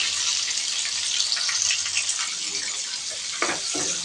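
Chicken pieces frying in a pan, a continuous sizzle with a few soft clinks and stirring sounds toward the end, no speech.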